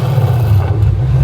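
Revving of a 2024 Ford Mustang GT V8 through a full aftermarket exhaust in track mode with the valves open, a loud, deep, continuous close-up roar.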